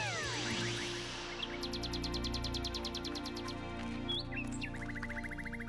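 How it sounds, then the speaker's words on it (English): Nightingale song in a children's cartoon, bright, rapid trills and repeated chirps with whistled notes, heard over a soft musical background. "Only male nightingales sing."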